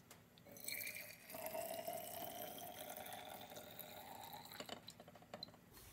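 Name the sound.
pouring homemade cochineal dye into a bottle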